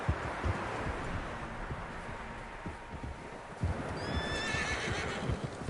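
Several horses whinny and neigh in a lively outdoor scene in the video game Red Dead Redemption II, with soft hoof clatter and rustling underneath, the calls rising clearly near the end.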